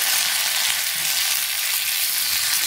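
Dried red chillies frying in hot oil for a curd rice tempering, a loud, steady, close sizzle and crackle that continues unbroken with no talking.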